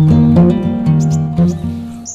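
Brief high chirps of a great tit break in a few times over a steady, humming tonal background.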